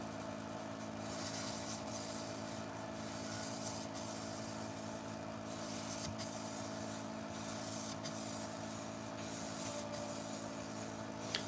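Pet grooming shears are rubbed on a 600-grit sharpening stone, a steady close rasping scrape in repeated strokes with slight pauses between passes.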